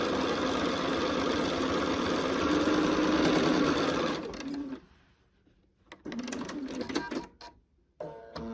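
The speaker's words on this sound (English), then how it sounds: "Okay, now I've sewn the 3 of them together." A sewing machine stitches quilt blocks together in a long loud continuous run that stops, then starts again in a couple of shorter bursts, close by.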